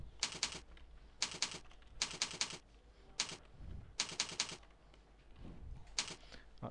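Quiet, close typing on a computer keyboard as a file name is entered, heard in short bursts of rapid clicking keystrokes separated by pauses and a few single taps.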